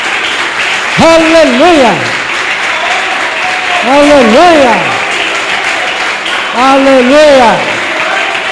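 A church congregation claps continuously for Jesus, the dense applause running beneath loud, repeated sung or shouted praise from a voice that rises and falls.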